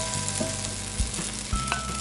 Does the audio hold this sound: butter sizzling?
yes